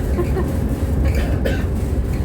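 A heritage train built in the 1950s runs on the Weardale Railway, its low rumbling and rattling a constant close drone through the short stretch.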